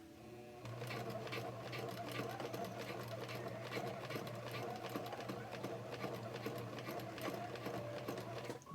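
A sewing machine stitches back and forth over elastic, running steadily with a rapid mechanical chatter and a fairly quiet, even hum across the whole stretch, with no talk over it.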